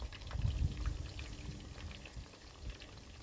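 Fish frying in oil on an electric stove burner, a steady crackling sizzle with soft bubbling, close and moderately quiet, with no voices.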